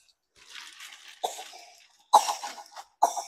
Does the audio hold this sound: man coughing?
yes